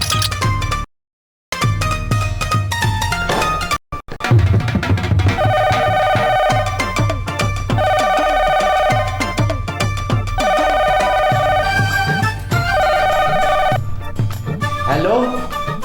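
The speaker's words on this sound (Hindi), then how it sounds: "फोन" A telephone rings in repeated electronic bursts during a Pakistani comedy drama scene. The rings are fairly loud and steady and are layered over background music and other sounds.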